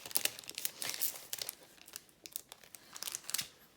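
Small adhesive foam pads for a handmade card are peeled and handled close up, giving bursts of quiet crinkling and crackling with short gaps between them.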